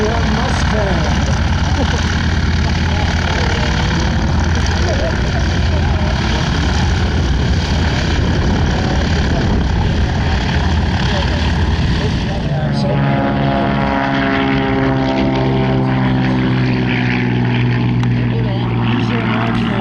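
A P-51 Mustang WWII fighter plane at an airshow, its loud propeller engine roaring steadily for the whole stretch, then settling into a harmonic droning tone as it passes; an announcer's voice may sit under the engine noise.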